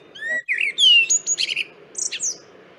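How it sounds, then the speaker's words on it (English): Recorded blackbird song plays as a run of mellow fluting whistles followed by a squeaky, twittering flourish at the end, clear against a quiet background. "So that's kind of how I try and remember blackbird."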